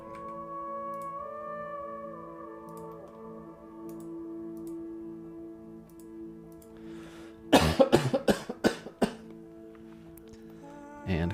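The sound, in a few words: coughing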